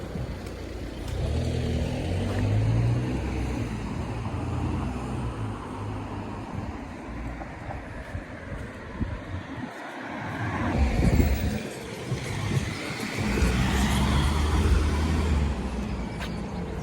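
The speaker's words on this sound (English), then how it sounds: "Choir of cars from different directions joined." Several cars drive past from different directions on a roadway, with a steady wash of traffic and a heavier vehicle swelling louder toward the end. Road noise stays continuous and fairly near throughout, with no talk.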